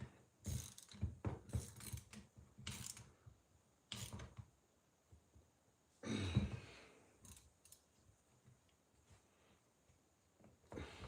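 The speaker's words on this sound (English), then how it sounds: "I got this long ratchet on the end of here." A long ratchet turns a bolt during a Vespa transmission rebuild, giving bursts of quick close mechanical clicks in several short runs with pauses between them, quiet overall.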